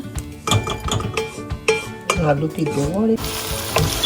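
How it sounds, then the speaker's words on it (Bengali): Onion and potato fry together in oil tempered with black cumin, giving a loud, close sizzle stirred with clinking metal utensil scrapes against the pan, and no talking over it. "তেলের মধ্যে একটু কালো জিরা ফোড়ন দিয়ে পেঁয়াজ আলু সব একসাথে আর কি ভাজা"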